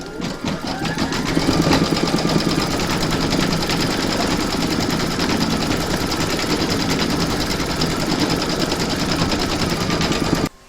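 An embroidery sewing machine stitching an in-the-hoop coaster, a rapid, continuous mechanical chatter of needle strokes running loud and even until it stops abruptly at the end.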